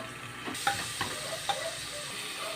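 Onion dropped into a hot frying pan in a home kitchen sizzles steadily, with a few soft stirring knocks against the pan. The sound is close and moderately loud, and no one speaks.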